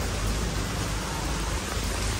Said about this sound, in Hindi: बारिश हो गई शुक्र बारिश स्टार्ट हुई